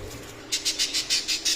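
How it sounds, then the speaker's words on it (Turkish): A 13-year-old budgerigar kept among female budgies gives a quick series of about seven sharp, evenly spaced chirps, close and fairly loud after a brief quiet start. "Evet 13 yaşında bir muhabbet kuşu bu şekilde oluyor arkadaşlar."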